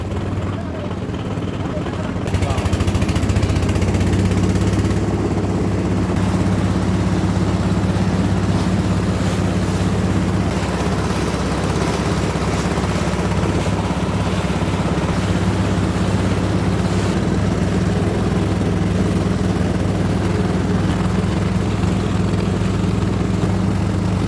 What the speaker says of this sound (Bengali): এবার আমরা নৌকাতে উঠলাম।